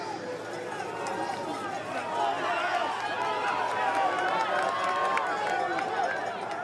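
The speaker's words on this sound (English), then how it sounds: "the crowd are just urging him on now to bring home this victory" Spectators at a 2014 Cyclo-cross World Cup men's elite race in Heusden-Zolder, Belgium, cheering and shouting in a steady mass of crowd noise, with a commentator's voice running over it.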